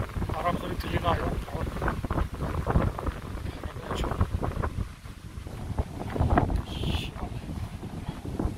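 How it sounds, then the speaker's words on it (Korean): Strong gusts of wind buffet and roar close by in uneven surges on a creek bushwalking trail, with a person talking underneath. "바람 소리 들리나요?"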